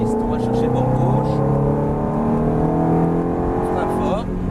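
A Ferrari F430 GT accelerates hard on a race circuit, its engine loud and close with rising, shifting harmonics and a brief lift near the end, while an instructor talks over it.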